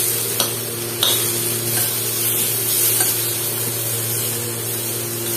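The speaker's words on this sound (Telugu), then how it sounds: "ఇలా స్పూన్ తో తిప్పుతా ఉంటే కింద మాడిపోకుండా ఉంటుందని చూడండి" A spoon stirs a cut tomato frying in hot oil with cumin in a pan, producing a steady sizzling hiss under a constant low hum, with a few faint scraping taps of the spoon against the pan.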